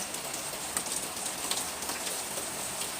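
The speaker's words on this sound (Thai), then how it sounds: "ฝนตกเด้อจ้า" Steady rain falls outdoors as a constant even hiss, with faint scattered chirps and ticks over it and no voices.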